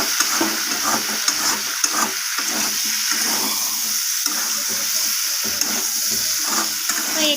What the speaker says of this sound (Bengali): তো চিনিটা দিয়ে আমি আবারও কষিয়ে নিচ্ছি।